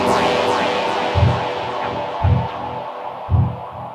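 Dub techno pad bed from an Elektron Analog Four with its effects left to fade out after stopping, a sustained wash of echoing, shimmering tones over a low throb that swells roughly every second, steady and fairly loud with no voices.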